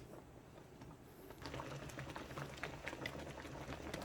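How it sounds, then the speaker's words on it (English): Smothered pork chops bubble rapidly in a pan, a dense crackling sizzle that starts softer and grows busier after the first second, close and steady with no talk. "my pork chops have started bubbling really rapidly"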